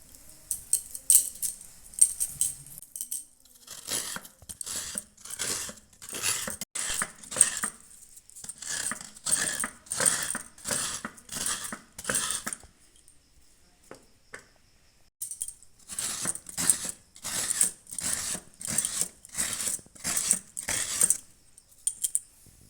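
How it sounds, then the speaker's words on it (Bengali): Half a coconut is scraped by hand on a grater for bhapa pithe: rhythmic, crisp scratching strokes in steady bursts, a brief pause midway, then more strokes, close and clear with no talking. "একটা নারকেলের আধখানা এটা আমি কুড়ে নেবো"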